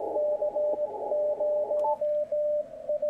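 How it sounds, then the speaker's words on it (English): An HF radio receiver with its digital filter switched off passes a steady sidetone-like carrier that keys on and off in short pulses over a layer of hiss and static, heard alone and moderately loud. "I just turned off the digital filter. Look at that signal come up, but so does the noise."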